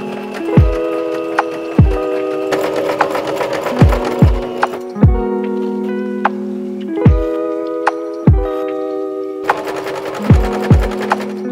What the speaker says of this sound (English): To sew the front and the back together, and then I can put in the lining.